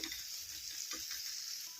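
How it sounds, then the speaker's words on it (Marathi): Potatoes sautéing in a pan: a brief, quiet sizzle with a few soft stirring scrapes. "तर ते टाकून घेऊया आणि याच्यामध्ये आता हे परतून घेऊया"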